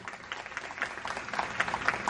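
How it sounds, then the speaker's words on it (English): Audience at a school open mic applauding a performer with steady, moderately loud clapping across the whole brief stretch. "Give another big hand of applause for Mr. Lucien Corsini for March of the Flam Accents."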